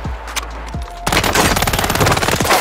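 Automatic gunfire in Call of Duty Warzone, with a Taq LMG: a few separate loud shots, then a sustained rapid burst of machine-gun fire rattling close and heavy.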